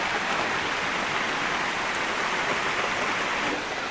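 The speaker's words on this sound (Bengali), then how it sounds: "দেখো বন্ধুরা এখনো বৃষ্টি হচ্ছে বাইরে।" Heavy rain falls steadily outside after a day of continuous downpour, making a dense, even hiss of drops that fills the whole stretch without pause.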